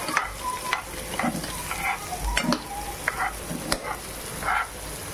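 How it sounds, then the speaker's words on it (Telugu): Chopped carrots and chillies frying in a pan for a Telugu home dish, a steady oily sizzle broken by repeated scraping strokes of a spoon stirring them, close and fairly loud. "ఇప్పుడు వీటిని బాగా ఫ్రై అవ్వనిద్దాం. ఒకసారి కలుపుకుందాం."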